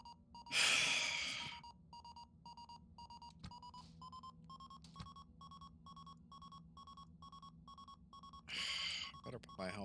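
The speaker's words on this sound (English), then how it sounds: "Proximity alarm." A proximity alarm in the space game Ostranauts sounds as a steady series of regular electronic beeps repeating at an even pace, with a couple of loud breathy gasps or hisses at the start and end.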